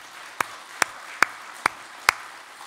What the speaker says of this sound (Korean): 우리 주님을 우리가 다시 한번 박수로 영광 올려드리도록 하겠습니다